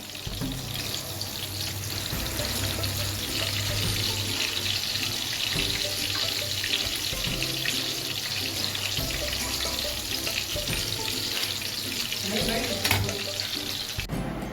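Beef chapli kebabs fry in a pan with a steady, close sizzle and crackle that holds on without a break, with a soft background hiss and occasional faint clatter.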